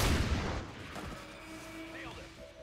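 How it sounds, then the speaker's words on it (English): A single pistol shot in a video game, a sharp crack at the start that decays into a reverberant tail, followed by faint electronic interface tones. "Another pistol shot."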